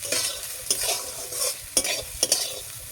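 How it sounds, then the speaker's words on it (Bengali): Potatoes frying in mustard oil with whole poppy seeds and curry leaves, stirred in a pan: soft sizzling under several sharp, close scraping strokes at uneven intervals. "এটাও ভালোভাবে আমি নাড়াচাড়া করে নেব"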